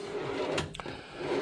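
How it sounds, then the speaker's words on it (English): A metal tool cabinet drawer slides open or shut in a garage workshop, a short scraping clack in the middle against a low steady background hum, with no voices. "Oop, lots of empty drawers."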